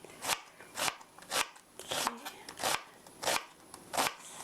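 A kitchen knife chops through an onion on a cutting board while prepping tomato sauce for spaghetti, with about eight crisp, steady thuds at an even rhythm, close and clear, and no one talking.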